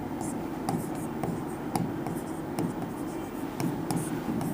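A pen scratches numbers onto paper during a class 10 mathematics lesson, a close, soft scribbling with short strokes and taps, quiet speech murmuring underneath.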